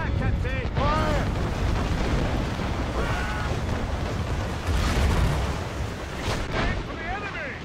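Heavy ship cannon fire booms across a naval battle in Assassin's Creed: Rogue, loud rolling blasts layered under shouting voices and game dialogue, with the barrage building and fading over several seconds.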